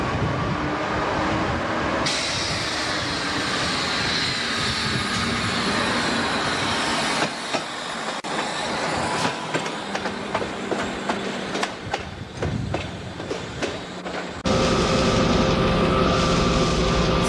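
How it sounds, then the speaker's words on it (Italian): A model railway layout recreating Ariosto station on the Riviera dei Ciclopi line, with a train rolling through at a steady clatter of wheels on track joints, clicking rhythmically up close before a louder section near the end. "Fare attenzione sul secondo binario, treno in transito, allontanarsi dal secondo binario, treno in transito."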